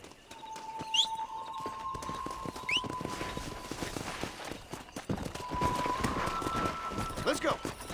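A galloping horse in the Western game Red Dead Redemption, steady rapid hoofbeats running throughout, with a long whistling tone and talk over the top.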